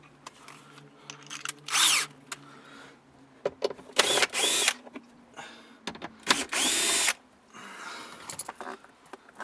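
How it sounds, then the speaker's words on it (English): A power driver whirs in several short bursts while backing screws out of a car stereo in a 2009-2013 Mazda 6, close and loud, with small clicks and handling noises between. "I'm gonna remove the other 2 screws that are right here on the top."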